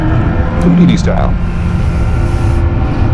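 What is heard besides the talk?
Kawasaki ZX-14R motorcycle overtaking a car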